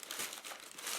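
Short burst of close paper crinkling as wrapping paper is peeled back from Nike N354 React-Type GTX sneakers in their box.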